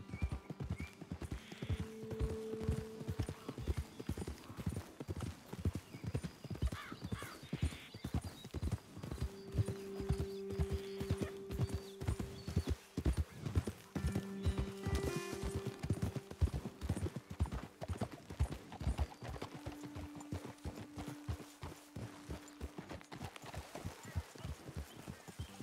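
Horses' hooves clip-clop steadily and close in Red Dead Redemption 2, a rapid rhythmic trot that runs throughout, with an occasional whinny and low tonal music underneath.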